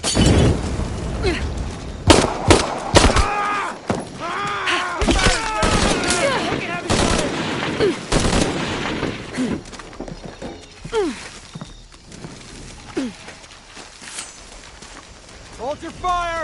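Gunfire in Shadow of the Tomb Raider, a fusillade of sharp shots in bursts early on, followed by shouted voices and a horse neighing and clopping over ongoing game sound.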